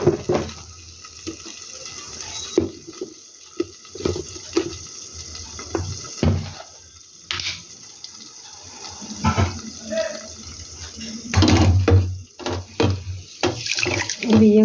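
Rice is washed by hand in water in a home kitchen: irregular sloshing and splashing, clinks against the vessel, and pouring water, close and fairly loud.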